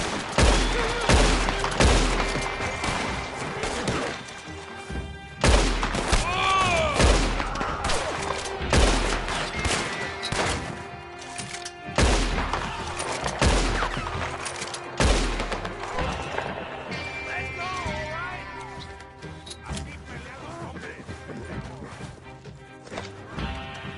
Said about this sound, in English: They wouldn't be shooting at me if we were friends.